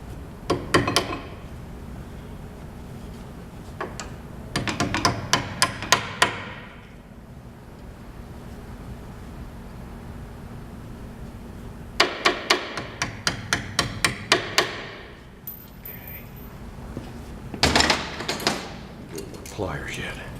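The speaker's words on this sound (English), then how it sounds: "Now the pinch bolt probably isn't just going to slide right out. I'm going to need a little bit of a punch" Metal hammer strikes on a punch driving out a car pinch bolt during CV shaft removal, sharp ringing blows in three quick clusters separated by quiet pauses, close and fairly loud.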